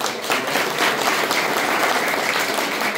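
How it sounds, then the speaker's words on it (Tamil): An audience at a school prize-giving event claps, a loud, dense, continuous wash of many hands that sounds close and holds steady for three seconds without any voices. "அப்ப உங்களுக்கு நீங்க பெரிய கைத்தட்டு கொடுக்கணுமா வேணாம்?"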